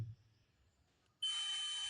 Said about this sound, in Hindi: इसमें एक तरफ से लगाने पर बीप की आवाज़ है जो आ रही है